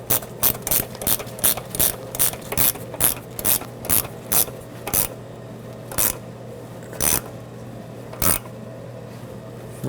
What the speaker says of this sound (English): So grab your 14 millimeter wrench or socket and let's tighten it up.